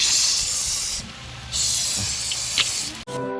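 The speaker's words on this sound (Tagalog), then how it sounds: "Lakas ng apoy." A strong fire roars beneath a pot at a backyard outdoor cooking session where goat papaitan is being made, giving a loud, steady broadband hiss that dips briefly and then surges back. A short clatter cuts in near the end.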